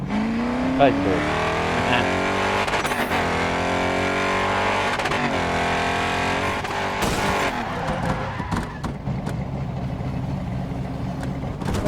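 Loud, continuous V8 Holden race car engine from GRID Autosport heard in full cockpit view, with revs climbing and dropping through gear changes and brief tire noise, an unbroken roar across the whole stretch.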